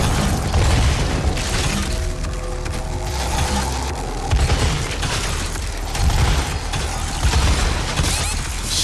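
Heavy, booming rocket launcher blasts in Doom, several loud explosive bursts recurring about every one to two seconds amid a dense, crashing wash of game noise.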